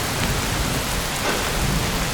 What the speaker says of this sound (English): Gosh, that thunder strike was nuts.